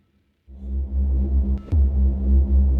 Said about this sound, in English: this is just the Phonogene that you're hearing, and I'm sending it through some external effects